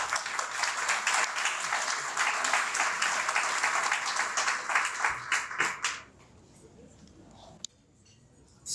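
A ceremonial audience marking the 50th anniversary of a Portuguese language school in Australia breaks into dense, steady applause for about six seconds, then it stops abruptly and leaves a quiet hall with a faint tap.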